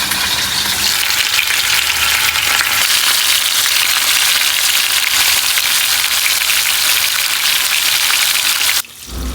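Hilsa fish frying in hot oil in a home kitchen, a loud steady sizzle and crackle that runs unbroken almost to the end before cutting off abruptly.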